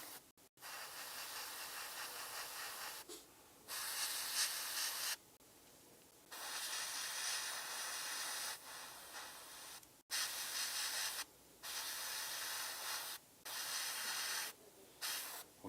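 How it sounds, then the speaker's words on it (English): An airbrush spraying blue paint onto a miniature, steady close hissing bursts that start and stop repeatedly over about fifteen seconds, with short quiet gaps between sprays. "let's just keep spraying in the meantime and find out"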